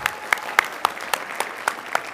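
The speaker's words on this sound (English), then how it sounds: "we'll give you a round of applause that you so well deserve." Evenly spaced single claps ring out in a slow, steady rhythm at a Board of Education meeting, a handful of hands striking together at a moderate level with no voices.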